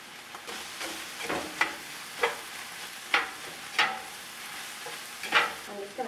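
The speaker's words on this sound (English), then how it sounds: "what I'm trying to do right now is brown the meat" Meat browning in a pot for taco soup: a soft, steady sizzle broken by repeated scraping stirs of a spoon against the pot, about eight distinct strokes at a slow, uneven pace, close and fairly quiet.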